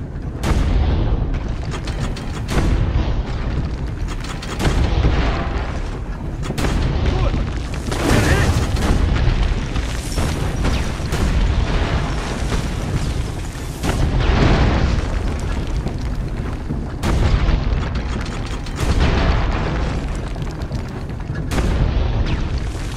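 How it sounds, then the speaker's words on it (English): Leonardo's war machine tank fires in Assassin's Creed: Brotherhood, loud booming cannon blasts and explosions repeating in waves with short lulls between them, while someone talks over the battle. "I really enjoy playing with the tank."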